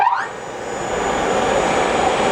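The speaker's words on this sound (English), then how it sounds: "That's the spindle motor, very powerful." Cincinnati Milacron-Heald universal internal grinder's powerful spindle motor spinning up with a rising whine, then settling into a loud, steady high-pitched hum with a constant tonal whistle, running alone throughout.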